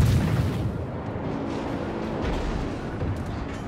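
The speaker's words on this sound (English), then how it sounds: "keep engaging with the guns." Warship guns firing in World of Warships naval combat, heavy booming salvos rolling into a continuous rumbling low roar that stays loud across the whole stretch.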